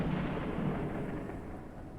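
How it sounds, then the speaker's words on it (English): Deep rolling thunder echoing through a storm in the video game Forever Skies, a steady low rumble filling the whole stretch, fairly loud and slowly fading slightly, with no talking over it. "You just hear the huge echoing thunder and just try to feel safe here."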